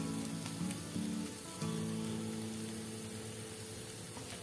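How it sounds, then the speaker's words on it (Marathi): Grated coconut sautéing in a pan for an ivy gourd stir-fry, giving a steady, close hiss of sizzling oil with a faint low hum in the first seconds and no speech. "खोबरंही आपल्याला लालसर रंगावर असं परतून घ्यायचं आहे"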